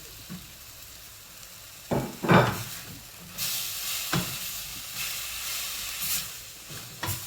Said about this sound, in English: Pan's sizzling away there